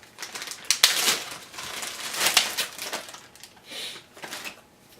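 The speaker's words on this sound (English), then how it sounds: "then there's a plastic bag." A plastic bag crinkles and rustles as an L3 Illumination K40 flashlight is pulled out of it, giving close, uneven bursts of crackling that come and go over several seconds.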